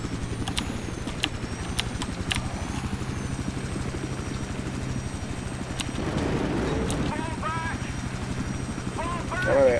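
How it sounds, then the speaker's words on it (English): A helicopter in the Battlefield video game on the Damavand Peak rush map, with a steady rotor drone and chopping thrum running throughout, while other game sounds and voices are heard over it. "I'm in the helo right now."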